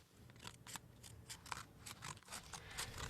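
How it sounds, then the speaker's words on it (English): Scissors snip through paper in a quick run of about a dozen crisp cuts at close range, irregular but steady, with no voices. "I'm going to take my scissors and I'm just going to cut off the shorter"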